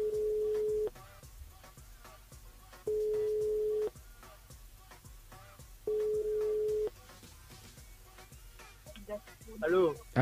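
A telephone call rings unanswered, repeating as a steady tone about one second long with roughly two-second gaps between, three times, before a brief burst of other sound at the end.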